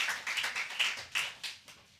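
Applause from a small poetry festival audience for poet Jos Charles, heard as a brief scatter of claps, fairly faint and uneven, tapering off over a couple of seconds with no voices.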